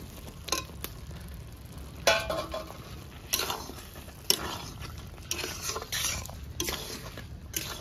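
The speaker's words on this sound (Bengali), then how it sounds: "আলু দিয়ে দেবো এখানে" Potatoes go into a pot of homestyle fish curry with taro, followed by scraping and stirring with a utensil against the pot, bursts of clatter and scrapes spaced over a soft background, no talking.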